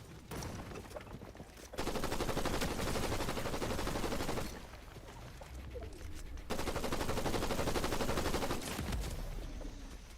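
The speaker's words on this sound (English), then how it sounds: "What rifle just one-shotted me?" Rifle and automatic gunfire in the video game Fortnite, long dense rattling bursts lasting a few seconds each, separated by brief lulls, loud and continuous with no talking.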